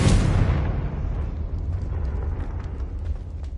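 A Confringo spell explosion in Hogwarts Legacy: a loud fiery burst at once, then a rolling low rumble with crackling debris that dies away over a few seconds.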